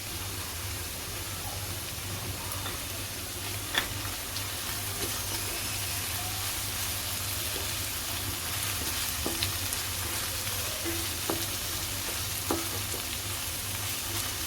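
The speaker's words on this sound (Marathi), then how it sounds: "कांदा आपला ट्रान्सपरंट झालाय आपण आले लसूण पेस्ट घालूया" Chopped onion fries with ginger-garlic paste in a pan for Mumbai-style pav bhaji, making a steady, even sizzle that goes on throughout, with a few faint clinks of stirring and no voices.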